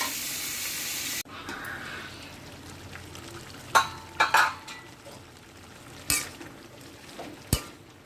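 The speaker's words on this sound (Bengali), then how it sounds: "এখন মাছের মাথাটা ভাজছি" A fish head fries in a pan: a loud sizzle cuts off after about a second, then quieter frying continues while several sharp metal clinks and scrapes of utensils against the pan ring out.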